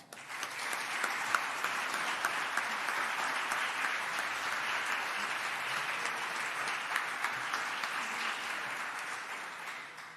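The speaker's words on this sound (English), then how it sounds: "I just want to take a moment and get a round of applause for everyone on Team Codman" Steady, dense applause fills a public annual meeting of Codman Square Health Center as the audience claps for Team Codman, a sustained even wash of many hands with no voices standing out.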